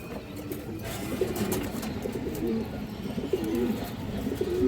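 Fancy pigeons, including a Lahore-type bird, coo repeatedly in soft, throaty rolling calls, several overlapping at close range against a steady background hum.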